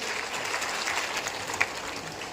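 Outdoor political rally crowd for Rajnath Singh, applause heard as a faint, distant, continuous wash of clapping with no clear individual claps standing out.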